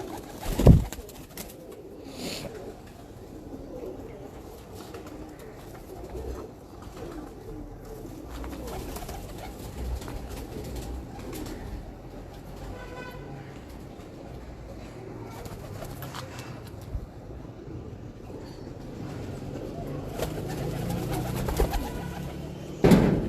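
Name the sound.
pigeons cooing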